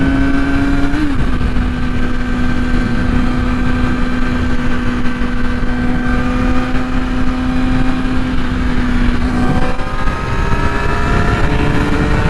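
A motorcycle engine drones steadily and loud close up while riding along the road, its pitch holding even with a brief shift near the start and another near the end, with wind rush beneath.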